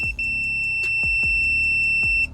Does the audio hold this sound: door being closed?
no